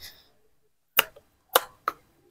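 Three sharp shots from a PCP SW 700 full-titanium air rifle firing Hercules pellets, each a crisp, loud crack with a short tail, spaced under a second apart after a brief quiet lead-in.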